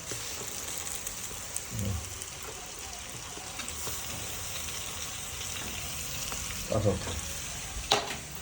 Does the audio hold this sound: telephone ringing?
no